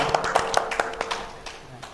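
A small group claps for a campus ambassador during a casual podcast chat, a brief burst of quick, uneven hand claps that starts crisp and close and then thins out and fades within two seconds.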